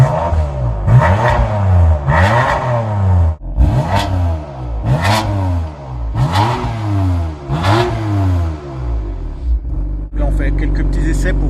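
On its first start, a BMW M4 F82 fitted with an Akrapovic exhaust gives a series of loud, close revs. Six or seven rising and falling blips follow each other rhythmically, then the engine settles into a steady idle.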